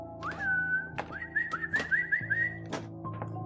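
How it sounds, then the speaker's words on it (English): A man whistles sharp rising and wavering notes as if calling a dog, inside a barn, heard close and alone with a few creaks and knocks around the tune. "He began whistling at me like a dog owner."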